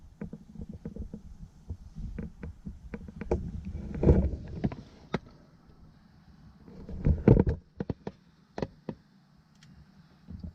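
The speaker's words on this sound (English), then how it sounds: "So now we gotta scrape all that gasket off." Old rotted gasket material is scraped off the oil pan of a Chevy 350 V8 small-block engine, giving repeated close scraping strokes and sharp ticks in irregular bursts with quieter gaps.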